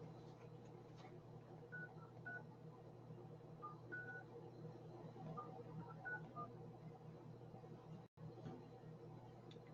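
A series of touch-tone telephone dialing beeps sounds in short clusters over a steady, fairly quiet hum, the sound of a number being dialed into a hotline during real estate cold calling.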